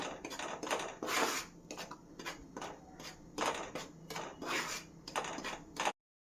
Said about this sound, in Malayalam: 1/2 കപ്പ് ഗോതമ്പ് പൊടി, ഒന്നിളക്കി കൊടുക്കണം